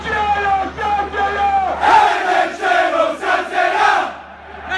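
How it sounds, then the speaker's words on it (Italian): Football ultras in the stands at a Salernitana versus Foggia match chant their song together, a loud, swelling mass of voices in rhythmic waves, close to the crowd. "La canzone degli ultra!"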